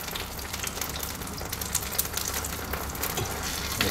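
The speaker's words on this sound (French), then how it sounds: "ça grésille bien, là." Pounti, a savoury Aubrac dish, sizzles and crackles steadily as it fries in a pan, a close, continuous frying hiss with no one speaking.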